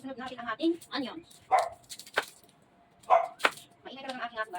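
A pet dog yaps in short bursts in a home kitchen during cooking, its barks mixing with someone talking nearby and some chopping.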